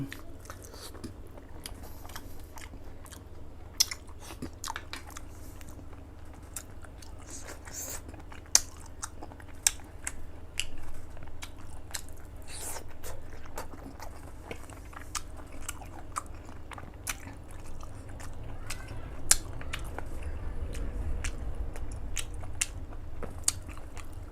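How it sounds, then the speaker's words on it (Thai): A person eats eggplant soup with mackerel and sticky rice, making faint, close chewing and soft crunching bites at an irregular pace over a quiet background hum. "กินกับข้าวเหนียวจะอร่อยมากเลย"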